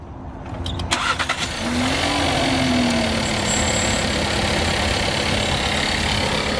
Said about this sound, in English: She's gonna do a little quick startup.